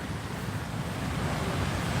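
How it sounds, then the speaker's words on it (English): Ocean waves on the beach in Da Nang, Vietnam, an unbroken loud wash of surf with some wind noise, steady throughout with no voices. "Can you guys hear the waves?"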